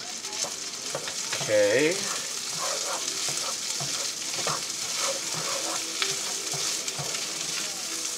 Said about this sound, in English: Now, let's add our rice. Now, remember, this is on high heat.